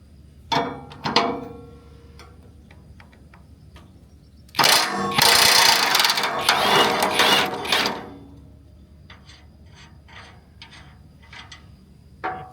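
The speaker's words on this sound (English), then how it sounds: "If you don't have an impact wrench, I would borrow one." Impact wrench hammering in a loud burst of roughly three seconds to loosen the 30-inch demolition blade on a DR brush mower, preceded and followed by scattered metallic clanks and tool handling.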